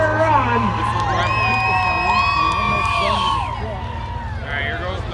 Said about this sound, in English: Let's cheer her on.